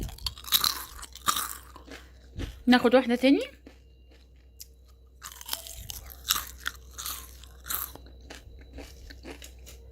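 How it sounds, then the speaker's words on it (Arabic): Homemade potato chips crunched between the teeth in a few sharp bursts, loudest in one brief cluster of rapid bites, with someone talking before and after each bite. "تعالوا بقى اسمعكم صوت القرمشه"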